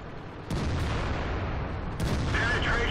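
Tank cannon fire in the World of Tanks video game with an IS-8 tank on a swamp map, a few loud booming shots about a second apart, each followed by a sustained roar of battle noise.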